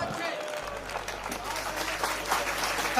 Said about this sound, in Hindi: जोरदार तालियां आपके धन्यवाद की।